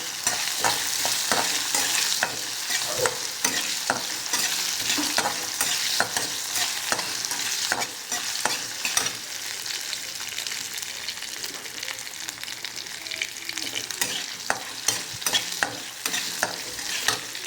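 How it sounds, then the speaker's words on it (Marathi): Sliced potatoes fry in peanut oil while being stirred, a steady bright sizzle with frequent soft scraping strokes of the spatula running throughout, close and fairly loud with no voices. "बटाटे छान फ्राय करायचे आणि याला ना उपासाचं असल्यामुळे शेंगदाणा तेल टाकलेलं आहे"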